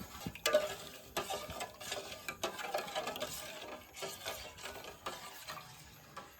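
Milk with sugar being stirred in a pot for custard, soft irregular scraping and clinking of a spoon against the pot, quiet and close.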